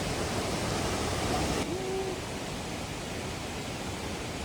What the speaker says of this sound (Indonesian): Deburan air terjun menciptakan hembusan kabut yang menyelimuti sekitar